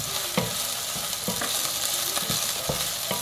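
Ginger paste, freshly ground, sizzles in a heated pan for a beetroot cutlet mix while a spoon stirs it, giving a steady hiss broken by regular scraping strokes, close and even throughout, with no one speaking.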